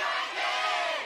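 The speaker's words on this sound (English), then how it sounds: "Crowd's going nuts." A large esports arena crowd roars and cheers continuously at the start of the final game of a League of Legends Champions Spring first-round series, SKT T1 versus GE Tigers, as a dense, loud, sustained wash of voices.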